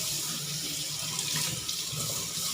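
Tap water runs steadily over kaffir lime leaves and lemongrass being rinsed in a sink while cooking Thai fish curry, a continuous close splashing stream with no talk.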